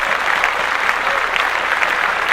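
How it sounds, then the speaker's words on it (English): Dense, continuous applause on a podcast, loud and close throughout a short burst with no talking over it. "Clap that up."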